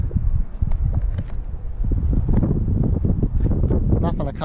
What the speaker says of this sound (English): She's a little windy.